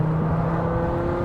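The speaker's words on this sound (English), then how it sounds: "Just listening to that V10 symphony." A V10 car engine idles and runs at a steady, loud drone while the car cruises gently, its low hum continuous and close with no talking over it.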